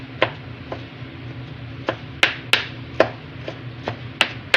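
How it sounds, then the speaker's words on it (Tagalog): Garlic being minced with a knife on a cutting board while cooking Filipino paksiw tilapia: roughly a dozen sharp, irregular taps at close range, with no talk. "Yung iba sa mga bawang, we mince it."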